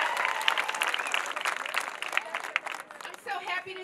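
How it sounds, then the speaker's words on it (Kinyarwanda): An audience at a testimony gathering applauds to welcome a woman to the stage, with steady, moderately loud clapping and a voice speaking over it near the end. "Mumuhe amashyi."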